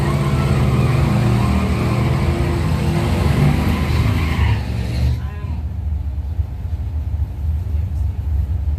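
Cars at a Ford-themed racing event roar and rumble loudly up close, engine noise and tire scrub sustained for about five seconds before dropping to a lower, more distant drone.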